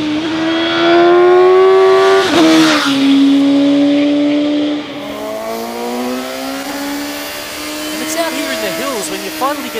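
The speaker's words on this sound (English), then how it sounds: "Finally get to explore the upper reaches of this crazy inline four engine." A Suzuki GSX-S750's 114-horsepower inline-four engine revs hard, its tone climbing to a high whine, dropping with a gear change, then pulling up again as the motorcycle accelerates, loud and close.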